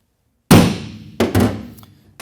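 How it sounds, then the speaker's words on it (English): A center punch strikes a metal truck bed, giving a sharp single thunk followed by two more quick taps a moment later, close and loud with brief ringing decay. "So we're going to go ahead and punch our mark."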